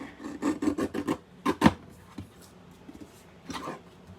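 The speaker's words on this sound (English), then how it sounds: "So just quickly trim these off." Card stock edges trimmed on a handmade greeting card, giving dry rasping strokes in a quick rhythmic run, then a short louder pair and one more brief pass near the end, close and alone.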